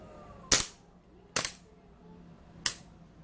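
A Hi-Capa Dragon airsoft pistol fires at a cup: three sharp, close snaps spaced about a second apart, each dying quickly into a quiet background.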